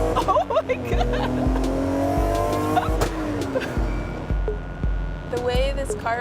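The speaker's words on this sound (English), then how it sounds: "The way this car vibrates, it does not feel safe to me." A car drives along with a rough, rumbling engine and tyre noise that swells and shifts, while excited voices call out over the vehicle sound.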